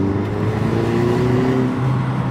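VW Golf 6 TSI with its exhaust flaps closed accelerating in second gear, a smooth, muted engine drone rising steadily in pitch, close and continuous for a couple of seconds.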